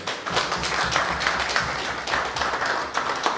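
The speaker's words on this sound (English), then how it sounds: "Please let us applaud them for the job well done." Audience applause at a tribute event, clapping for the organizers and the executive of FONA. The clapping is dense and steady, fills the whole stretch at moderate loudness, and has no talk over it.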